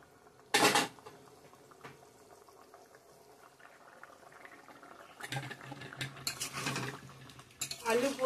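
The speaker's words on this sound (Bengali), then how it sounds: "মাছগুলো দিয়ে দিলাম, কাতল মাছগুলো।" Catla fish pieces dropped into a simmering potato and pointed gourd curry, giving a sharp splash and then bursts of bubbling and sizzling against pan clatter.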